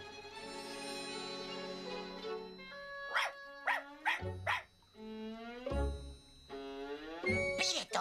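A cartoon dog yips and barks in short bursts over a musical backing, with whimpery high notes between the barks.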